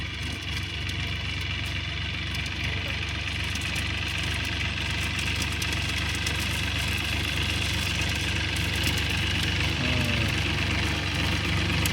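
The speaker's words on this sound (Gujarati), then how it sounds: "આમથી ને આમ ટ્રેક્ટર દોડવે છે" A tractor engine runs in a field where dried pigeon pea plants are being gathered, a steady, close mid-to-low chugging drone that holds at an even level throughout with no voices.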